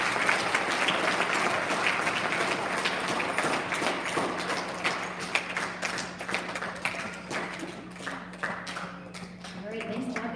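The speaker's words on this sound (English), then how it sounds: "Big round of applause for our fifth graders" A school audience at an elementary student recognition ceremony applauds fifth graders, steady dense clapping lasting throughout, with crowd murmur and a few footsteps or thuds mixed in.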